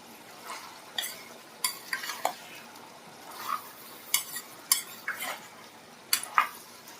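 A spoon scrapes and clinks against a pan as raw ingredients are mixed with no oil, giving sharp metallic taps at irregular intervals over a soft rustle, with no talking.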